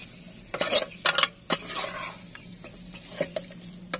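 A utensil scrapes and clatters against a pan as noodles are stirred, with a few sharp metallic knocks and scrapes in irregular bursts, close and moderately loud over a faint background hiss.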